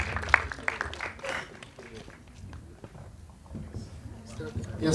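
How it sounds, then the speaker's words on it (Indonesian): An audience at an Indonesian film press conference claps for a guest named Edwin, a scattered round of applause mixed with people talking. "Tepuk tangan dong untuk Edwin."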